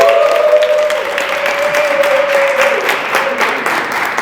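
Audience applause for a DJ at a popping dance talk event in Mexico, a steady wash of loud clapping from a crowd that holds evenly throughout.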